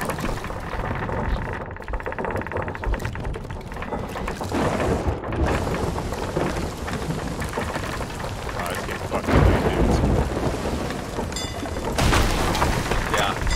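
A thunderstorm at sea in Sea of Thieves brings steady heavy rain with rolling booms of thunder and gusting noise, constant and loud, with people talking underneath.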